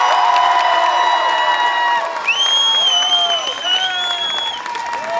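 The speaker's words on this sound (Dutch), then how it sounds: "Op de tweede plaats, graag uw applaus voor Belgisch kampioen Sven Nys." A crowd claps and cheers at a cyclocross podium ceremony, with whoops and shouts over the applause and music or horn-like tones running through it.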